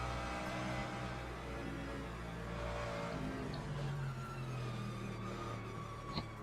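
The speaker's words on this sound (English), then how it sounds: "Unless an LMP2 takes him out for me." A race car engine in the Le Mans Ultimate racing game sits at a steady high drone with small pitch shifts as it revs, over a constant mechanical whir. A brief sharp click lands near the end, and there is no speech.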